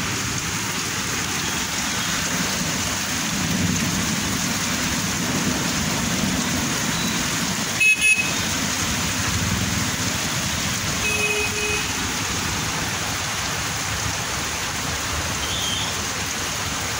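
Heavy rain pours steadily outdoors as a dense, unbroken hiss, with a brief sharp crackle near the middle; any thunder stays faint and low under the downpour.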